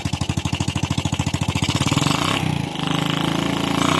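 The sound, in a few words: Yamaha Vega 115 motorcycle engine running after starting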